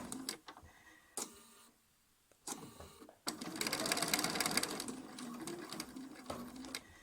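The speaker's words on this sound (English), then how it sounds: "Needle down a few stitches and then gently lift the curve" A domestic sewing machine stitches curved Drunkard's Path quilt pieces in short bursts, stopping and starting before settling into a steady whirring run of stitches, close and moderately loud with no voices.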